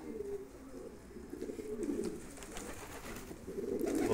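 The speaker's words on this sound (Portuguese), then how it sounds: "Pombo pra todo lado." Several pigeons give low, rolling coos close by, overlapping murmurs that rise toward the end against a faint ambient hiss.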